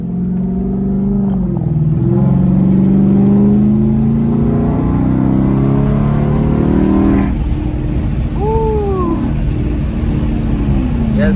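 A car engine revs and pulls hard with a loud, steady roar from inside the cabin during a drive, rising through a gear before easing off.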